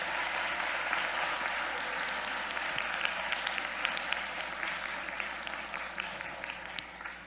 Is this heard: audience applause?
yes